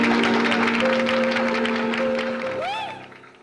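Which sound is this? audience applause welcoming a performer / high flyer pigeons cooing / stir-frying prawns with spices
audience applause welcoming a performer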